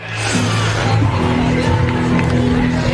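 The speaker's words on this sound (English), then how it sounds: "The more you cheer, the faster they go." Crowd cheering at the start of a BMX race at a national competition in Canada: a dense, sustained roar of many voices that swells in and holds steady, loud and close, with a commentator talking over it.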